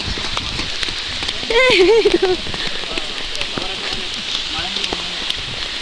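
Rain patters steadily throughout on a hilltop trek while a voice briefly calls out in a sing-song tone near the start.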